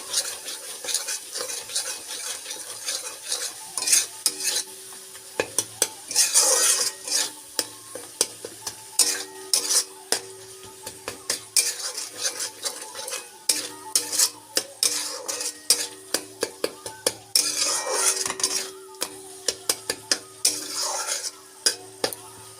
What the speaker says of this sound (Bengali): কিছুটা চিনি দিয়ে মশলাটা কষিয়ে নেব যতক্ষণ না পর্যন্ত মশলাটা থেকে তেল ছাড়ছে